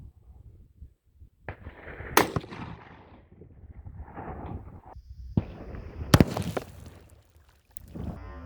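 A rifle fires a Hornady Outfitter cartridge with a GMX all-copper bullet outdoors, making one sharp, loud report that rings out briefly. Quieter shuffling and handling noises come before and after it.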